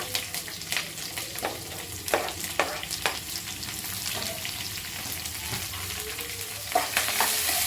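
Curry leaves and onion frying in a pan, a continuous bright sizzle with intermittent crackles and spatters, close and steady throughout.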